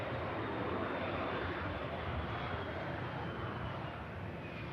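A Boeing 787-10 Dreamliner airliner touches down at Manchester Airport and rolls out, a broad steady roar of engine and rushing air holding at an even level throughout.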